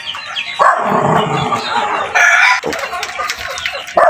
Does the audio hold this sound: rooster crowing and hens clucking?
yes